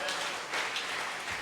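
A church congregation claps and applauds in praise, producing a dense, even wash of hand claps that carries through the whole brief stretch without any voices.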